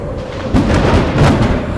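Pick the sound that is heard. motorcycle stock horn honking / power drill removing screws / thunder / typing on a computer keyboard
thunder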